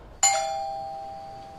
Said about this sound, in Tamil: காலையில் 5 மணிக்கு காலிங் பெல் அடிச்சிச்சு